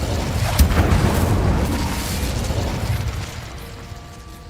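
Hogwarts Legacy Incendio fire spell cast, a loud whooshing burst with a heavy low boom near the start, then a sustained crackling rush that gradually fades.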